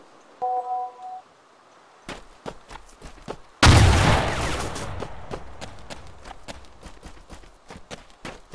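A single heavy PTRD anti-tank rifle shot in ArmA 2 with the ACE mod booms out midway as a loud blast with a long rolling tail, among scattered sharp clicks and ticks before and after.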